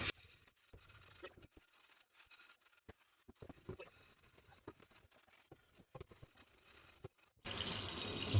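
A rusty cast iron pan is scrubbed with a steel wool pad and soap, with scattered faint scraping clicks at first. Then hot water from a tap gushes loudly and steadily.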